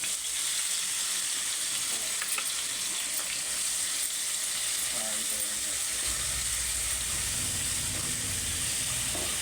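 Onion paste sizzles and spits in hot oil already seasoned with cumin seeds while a dhaba-style masala egg curry is being cooked. The sizzle stays steady throughout, and a heavier bubbling rumble builds in the last few seconds as the paste is stirred.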